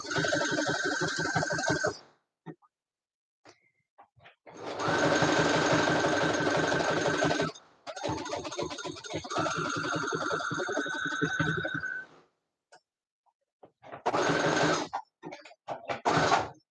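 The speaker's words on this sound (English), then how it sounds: "I'm also sewing through 8 layers of fabric" Sewing machine stitching through a thick stack of eight fabric layers, running in several long bursts separated by pauses, with steady mechanical whirring that stops and restarts.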